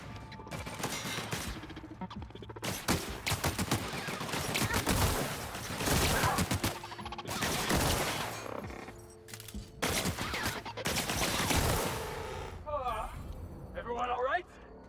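A Robocop-style gun fires in The Outer Worlds, with repeated loud bursts of rapid gunfire separated by short pauses and someone talking intermittently over the shooting.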